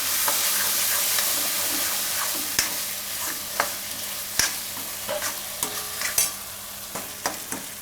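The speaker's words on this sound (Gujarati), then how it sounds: "થોડીક વાર ટમેટાને પાકવા દેવું." Tomatoes fry in a pan with a steady, close sizzle and hiss while a spoon stirs them and scrapes and clicks against the metal now and then, for a Gujarati spinach and paneer dish.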